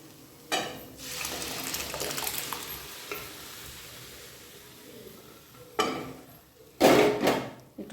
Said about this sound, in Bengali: একটু জল দেব, জল ছাড়া তো দিতে হবে না, আরও শক্ত হয়ে যাবে, ছোলার ডাল তো